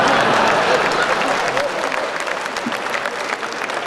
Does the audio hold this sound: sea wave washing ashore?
no